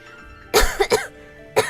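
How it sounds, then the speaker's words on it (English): A few close, harsh coughs in quick succession, a burst of three followed by a short pause and one more, alone in otherwise quiet surroundings. "Coughing."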